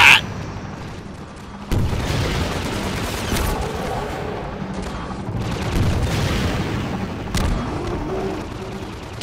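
Combine gunship attack in Half-Life, with a sharp blast at the start, then rattling bursts of gunfire and booming explosions over a rumbling background.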